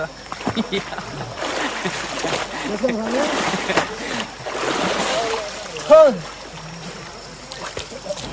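Water splashing and sloshing as someone dunks their head in a cold river in a Kerala forest, in bursts amid nearby voices talking and shouting.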